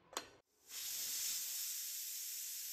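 A pressure cooker holding two medium potatoes releases its pressure in a steady, fairly faint hiss. A short knock comes first, then the hiss rises and keeps going to the end.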